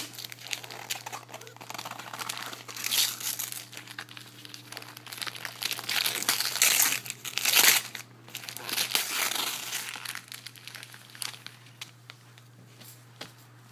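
Gift wrapping paper crinkling and tearing as a present is unwrapped, with irregular close crackles and rustles over several seconds.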